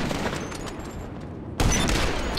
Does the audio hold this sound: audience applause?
no